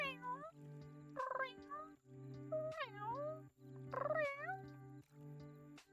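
Playful synthetic cat-like meows and warbling calls repeat several times over a looping electronic backing tune, like a quirky sound effect.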